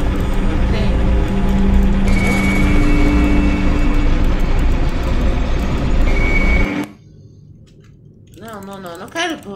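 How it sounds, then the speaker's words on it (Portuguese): A runaway train in Poppy Playtime Chapter 2 makes a loud, steady rumbling roar with rattling and a high whine for about seven seconds, then cuts off abruptly, leaving quieter sounds as someone speaks. "E a gente fica com o trem descontrolado."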